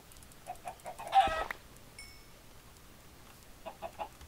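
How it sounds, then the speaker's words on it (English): Chickens in the game Minecraft cluck in short bursts, a louder flurry of clucks rising midway, then a few scattered clucks trailing off near the end against a quiet background. "there are so many chickens here"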